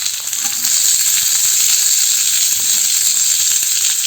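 Onion with curry leaves and coriander sautéing in a pan, a steady close sizzle and hiss running without a break from start to finish, fairly loud and with no voices.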